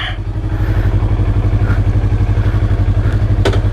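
A 2020 Yamaha YZF-R3 with an aftermarket exhaust rumbles close by at a steady, throbbing idle-to-low-rev pulse, with a brief sharp clatter near the end.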